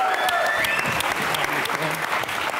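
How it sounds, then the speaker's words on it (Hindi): A studio audience at a Pakistani comedy talk show breaks into loud, sustained applause, dense clapping continuing throughout as a guest is welcomed. "कराची के कायद आपकी भरपूर तालियों में कायद अहमद"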